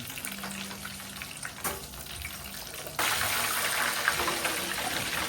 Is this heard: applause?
no